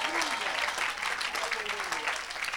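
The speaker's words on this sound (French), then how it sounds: "Donne une grande acclamation à ce Jésus de Nazareth." Crowd applause fills the clip, broad and continuous, with a voice faintly audible underneath.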